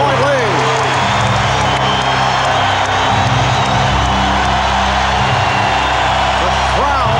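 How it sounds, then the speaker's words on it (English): Arena crowd noise at the 1996 NBA Finals Game 5 between the Chicago Bulls and Seattle SuperSonics, a dense, steady roar that stays loud for the whole stretch, with excited cheering swelling and a commentator talking over it. "The crowd very much back into it"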